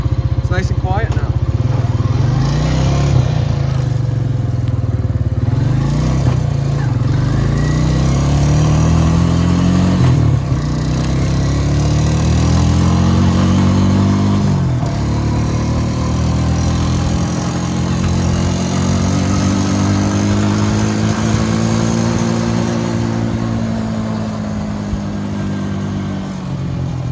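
Honda Rancher 350 ATV with a rebuilt engine running on a ride, a loud steady engine drone that rises and falls through repeated accelerations and gear changes across nearly half a minute.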